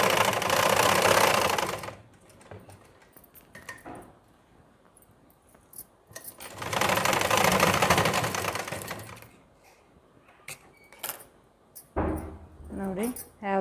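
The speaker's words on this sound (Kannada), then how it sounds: "ಹಿಂಗೆ ಸ್ಟ್ರೇಟಾಗಿ ಹೊಲಿಗೆ ಹಾಕ್ಕೊಂಡು ಬರಬೇಕು" A sewing machine stitches a blouse in two loud, fast whirring runs of about two seconds each, with quieter fabric handling and soft clicks in between and a voice speaking near the end.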